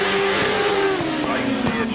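Grasstrack racing motorcycles revving together at the start line of a 2002 event, a loud, close engine drone with rising pitch and sharp rev blips as the machines build up to launch.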